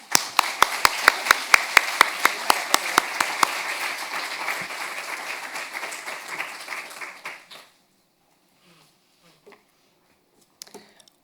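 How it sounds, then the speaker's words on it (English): An audience applauds at the opening lecture of a university master's program in translation, sharp individual claps at first merging into dense steady applause that stops abruptly, followed by near silence with a few faint sounds. "please give her a round of applause"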